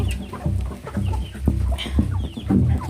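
A Kaki Nemali hen clucks in short, choppy bursts, close and fairly loud, the rhythmic clucks running continuously with a few sharper calls mixed in.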